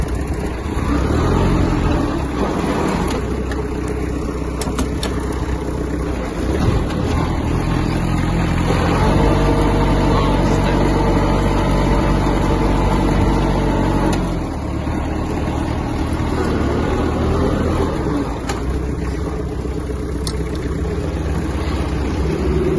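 A Kubota X-20 Japanese mini tractor engine running steadily while driving, a continuous close diesel drone that swells slightly in the middle and holds fairly loud throughout.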